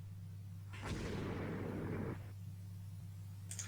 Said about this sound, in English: Ranger hit by torpedo.